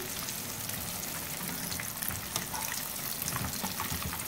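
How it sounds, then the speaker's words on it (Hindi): Chicken kebabs fry in oil over a medium flame, giving a steady, continuous crackling sizzle that stays even throughout, with no voices. "बाकी जो कबाब रह गए वो भी फ्राई कर, कबाब को हमने मीडियम फ्लेम पर फ्राई कर लिया।"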